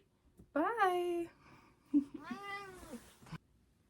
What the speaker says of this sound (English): But he's still our sweet little black kitty.